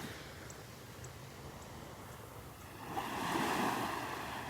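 Waves wash onto Vanderbilt Beach on a morning walk, a soft steady surf hiss that swells louder near the end as a wave breaks close by, with light wind noise.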